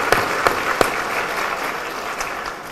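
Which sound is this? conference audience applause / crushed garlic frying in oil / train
conference audience applause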